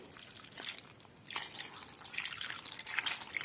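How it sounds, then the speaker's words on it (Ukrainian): Water is poured from a tap or jug into a bowl of salted food until it is covered, producing a steady, close, bright trickle and splash with no talking. "І ще доливаю води, щоб вони були ось так от покриті."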